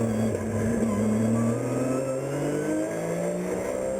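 Race car engine at the Spa-Francorchamps circuit, loud and steady with rising and falling pitch as the car passes and accelerates, no talk over it.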